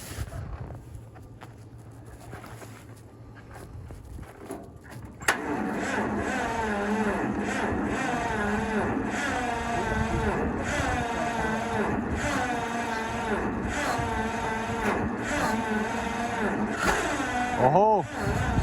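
A 1954 John Deere Model 60 tractor fires up from a cold start at -35 degrees, with the engine catching abruptly partway through and then running loud and steady. A voice talks faintly at the start, before the engine catches.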